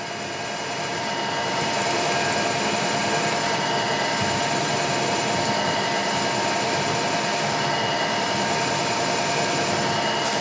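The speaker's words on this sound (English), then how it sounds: "I always watch the drill tip when it starts to see that it doesn't wiggle" A power drill whines steadily as it bores through a metal vise mount, a continuous high grinding drone that ramps up at the start and then holds level.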